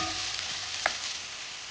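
Chopped onions sizzle steadily as they roast in a pan for a raw banana kofta curry, a close, even hiss with one faint clink.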